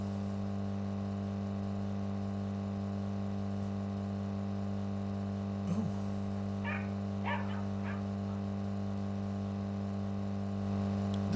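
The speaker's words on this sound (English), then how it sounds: "Is your dog barking back there?" A dog in the driving game Drive Beyond Horizons gives a few short barks around the middle, set in a desert against a steady low engine drone.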